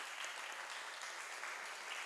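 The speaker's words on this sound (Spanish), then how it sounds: "Démosle un aplauso a la pastora que también ora por nosotros" Audience applause for a pastor's wife at a church ministry class, a dense, steady wash of clapping holding evenly for the whole stretch with no voices over it.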